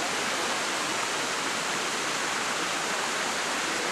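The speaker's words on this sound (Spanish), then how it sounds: "El ruidito del agua siempre lo van a estar oyendo durante esta caminata río abajo." Water of the Guayo river rushes steadily during a walk downstream, a loud, even broadband hiss with no pauses or voices.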